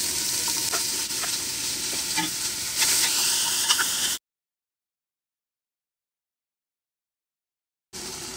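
Onion and carrot frying and being stirred in olive oil for kabsa, a bright, close sizzling hiss with scraping, cut off by a stretch of dead silence before the sizzle returns briefly.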